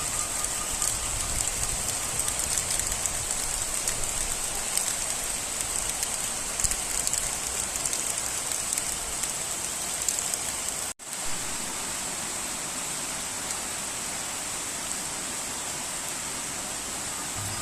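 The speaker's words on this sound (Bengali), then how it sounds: "অনেক বৃষ্টি পড়তেছে বাহিরে" Heavy rain pouring outside at night, a dense steady hiss heard from indoors, continuous throughout with one brief dropout partway, no voices.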